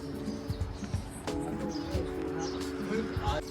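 House sparrows chirp in a chilly hillside setting in Solan, with small tweets scattered over a steady background hum while a person talks throughout.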